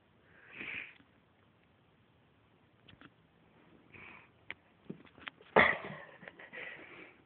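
Cats sniff and snuffle nearby in a quiet room, with several short, soft bursts of breathy sniffing scattered through the quiet and one sharper louder puff near the end.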